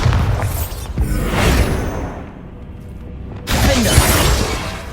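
A Bombarda blasting spell in Hogwarts Legacy goes off as a loud, crackling explosion with shattering debris, followed by a second burst a few seconds later.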